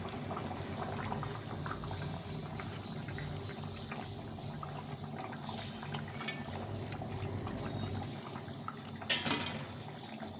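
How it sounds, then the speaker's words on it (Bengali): Fish curry gravy bubbles in a pot, a soft continuous liquid simmer with a faint sizzling texture, quiet and close, with one brief clatter near the end. "ঝোলটা ফুটে গেছে, এখন নামিয়ে দেবো।"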